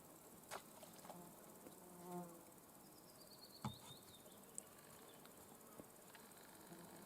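Small flying insects, likely mosquitoes, whine and buzz around at an evening fishing spot, with brief near passes over faint outdoor background noise.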